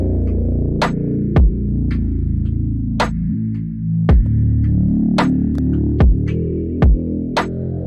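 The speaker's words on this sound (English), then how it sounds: "added just a really low two-step hi-hat" Sparse, low two-step hi-hat made in FL Studio, processed with flanger, phaser and reverb, ticking in an uneven pattern over a sustained low, throbbing ambient hum, with a deep bass thump landing every couple of seconds.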